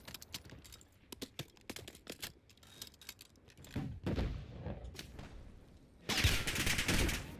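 Rapid video game gunfire crackles in bursts of sharp close shots, then swells into dense sustained fire and a loud roaring blast near the end.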